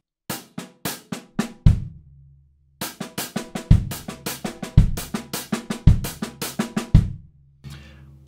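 Triplet groove on a Natal kit, right hand ticking the hi-hat while the left hand strikes the snare, with deep kick thuds landing through the pattern; crisp close hits in a steady rolling rhythm, a short pause before the groove restarts, no talking.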